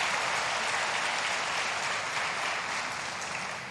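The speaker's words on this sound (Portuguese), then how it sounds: "Jesus merece uma salva de palmas agora." Audience applause at a church talk show recording, a steady dense wash of clapping held at an even level throughout with no voices over it.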